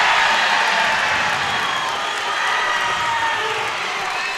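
A high school basketball crowd in a gym roars and cheers after a slam dunk in the Preston vs. Hillcrest game, a loud sustained wall of shouting and whooping that eases slightly over several seconds.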